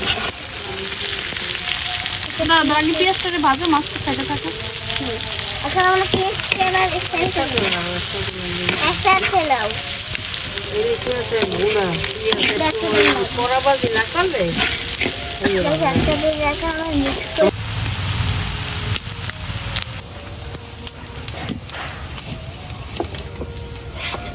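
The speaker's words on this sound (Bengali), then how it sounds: "এখন ভাজবো ইলিশ মাছ" Hilsa fish frying in hot oil, a steady dense sizzle that fills the scene, with brief talk over it and clattering of utensils; the sizzle softens near the end.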